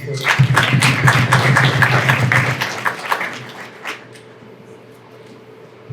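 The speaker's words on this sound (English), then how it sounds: "A round of applause, guys." Applause from an audience at a business planning event, a burst of clapping and cheering that runs loud for a few seconds, then thins out and fades to quiet room tone.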